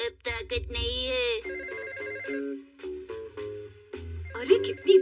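A telephone bell rings steadily inside a home in a Hindi-dubbed Shinchan cartoon, its repeated electronic trills close and prominent, with cartoon voices overlapping it.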